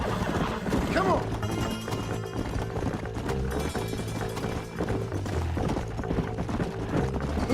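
Horse hooves clip-clop in Red Dead Redemption, a steady running gait underneath a dense, loud game soundtrack of music and effects, with voices talking over it.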